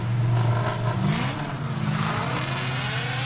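Drift cars battle together, their loud unmuffled engines revving and roaring at a steady, sustained pitch, close and dominant, with no voices over them.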